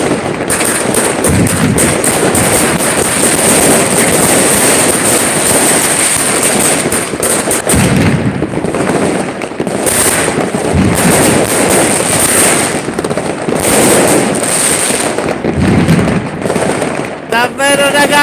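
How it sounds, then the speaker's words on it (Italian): Fireworks exploding outdoors at the start of a pyrotechnic display, dense crackling bangs and pops going off continuously near and far, with someone talking over them. "ci sono le bombe qua, ancora che sparano tutti"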